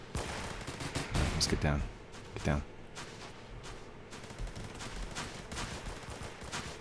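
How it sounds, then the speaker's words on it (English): Gunfire in the Roblox shooter Phantom Forces, a burst of rapid automatic shots followed by scattered single cracks, heard under a voice talking. "Somebody shooting at me?"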